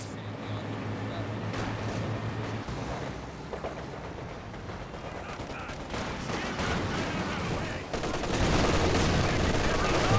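Machine gun fire and other gunfire in a Company of Heroes 2 3v3 battle around a station: dense, continuous bursts of rattling shots and blasts, getting louder toward the end, mixed with in-game sounds and what may be voices.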